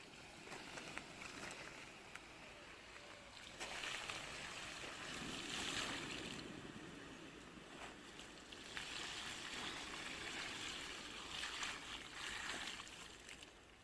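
Water is poured slowly from above onto a primitive charcoal-making fire, making a soft hissing, rushing wash that swells in a few longer surges over a low background.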